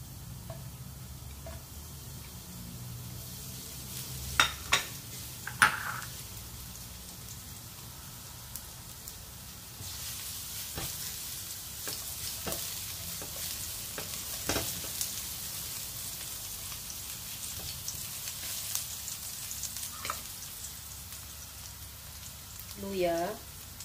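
Garlic sizzles in hot cooking oil for pork liver and intestine adobo; a steady, quiet frying hiss with a few clinks of a utensil.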